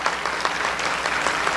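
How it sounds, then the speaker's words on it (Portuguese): An audience gives dense, steady applause, many hands clapping at once in a continuous wash of sound. It stays at an even level throughout with no voices over it. "Ouviu os aplausos aí?"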